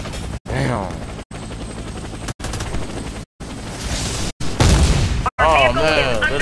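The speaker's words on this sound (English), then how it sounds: "the helicopter is all on me" Helicopter rotor drone and bursts of gunfire in the Warface shooter game during a sniper evacuation mission, loud and continuous with brief cuts to silence, sharp shots and booms breaking through near the end.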